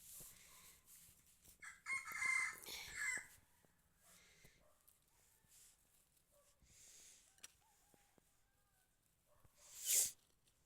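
A rooster crows at a farmyard vegetable garden: a loud, harsh burst early on, then quieter rustling and scattered farm noises, and a short sharp call near the end.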